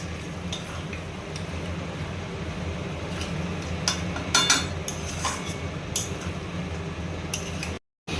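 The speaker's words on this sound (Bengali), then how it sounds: "এবার মাংসটাকে ভালোভাবে মিশিয়ে নেব বেরেস্তার সাথে" A pot of mutton korma with fried onions gets stirred, bringing soft repeated scraping and clinking of a utensil against metal over a steady sizzle, with a brief dropout near the end.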